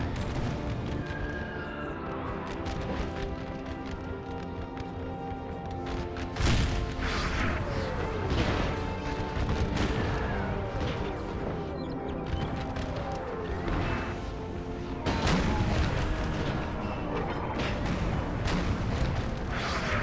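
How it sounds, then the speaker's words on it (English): Cannon artillery booms repeatedly in a Napoleon: Total War American Civil War mod battle. Scattered heavy shots and crashes sound over a dense, continuous wash of battle noise and background music. "Or maybe he shoots his own cannons"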